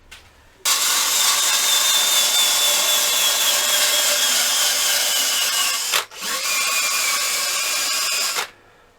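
A rotary nylon abrasive bristle rasp on a cordless tool with a dying battery whirs loudly against a turned wooden platter rim with a rough abrasive rasp, cuts out briefly, then runs again before stopping.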